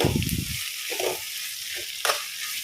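Fenugreek seeds tipped into hot oil in a pan while making fish curry, giving a brief burst of close frying sizzle that fades, followed by a few light stirring clicks and scrapes.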